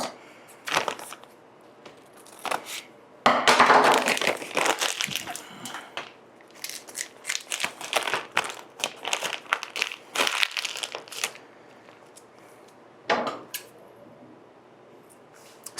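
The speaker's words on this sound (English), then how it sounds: "take a pastry bag, fill it up, and pipe it in" Deviled egg filling squished and squeezed into a plastic pastry bag, close crinkling and crunching of plastic with bursts of squelching, loudest early on, then scattered rustles and quieter handling.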